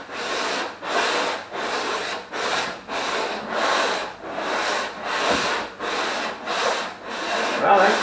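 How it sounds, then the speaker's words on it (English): Bodywork on a Mercedes 280SL is sanded by hand, with steady rhythmic rasping strokes, about eleven loud back-and-forth passes close by with brief pauses between them. "Sanding's a lot of work, isn't it?"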